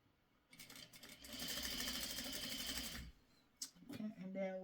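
A sewing machine runs slowly over quilt fabric pieces, a close, steady stitching whir lasting about two and a half seconds, preceded and followed by someone speaking.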